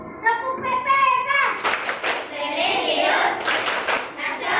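Children perform the Tepuk PPK clapping chant, a rhythmic call of claps and chanted phrases; clear hand claps and children's voices, with a tonal sung or chanted opening followed by a denser, busier stretch of clapping and voices.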